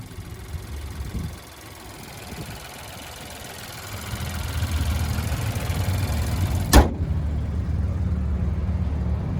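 A 2020 Buick Encore GX's 1.2-liter turbo engine idles under the open hood in an even, low hum. About two-thirds of the way through, a single sharp knock or thump stands out before the idle carries on.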